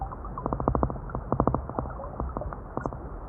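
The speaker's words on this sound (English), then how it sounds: "This is a drum vibration, and these kind of sounds, they dominated mainly in February" Fish drumming recorded underwater in February: rapid trains of low, pulsing thumps in several short bursts, repeated over a murky, rumbling background, moderately faint.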